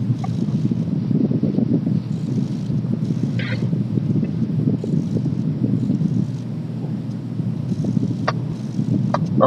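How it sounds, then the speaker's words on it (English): Strong wind gusts buffet a microphone outdoors during friction fire making with a yucca hand drill, a continuous loud roaring rumble with no speech. "because it's really windy"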